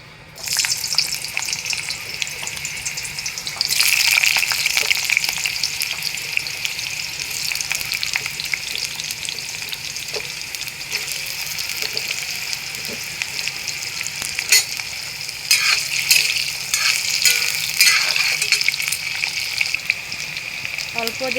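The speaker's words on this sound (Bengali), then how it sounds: "এবার আমি আলুটা ভেজে নেব।" Potatoes fry in hot oil in a pan with a steady, loud sizzle that flares up sharply a few seconds in and keeps crackling with occasional pops, no voices heard.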